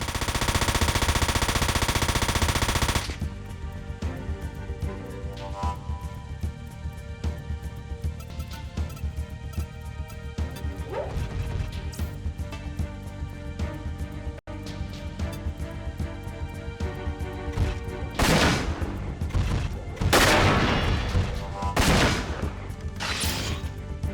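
Rapid bursts of machine-gun fire from a Front Mission 4 battle on the PlayStation 2, steady rattling through most of the stretch with sharper, louder shots near the end, no voices.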